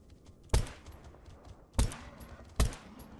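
A newly acquired pistol fires three separate sharp shots, evenly spaced, in the S.T.A.L.K.E.R. GAMMA video game, with quiet game ambience between the reports.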